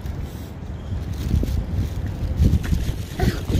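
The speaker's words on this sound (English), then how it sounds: "Why is it so windy?" Strong wind gusts across a park, the microphone buffeted by a steady low roar that swells and surges in rough blasts throughout.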